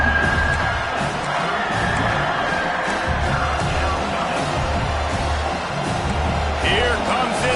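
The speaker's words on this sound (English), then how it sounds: "Here comes this home crowd as the defense tries to get off the field on 3rd down." Home crowd at a college football game, Waterboy vs Kentucky, roaring steadily on third down, with loud sustained stadium noise and a whistle-like tone throughout, while a commentator talks over it.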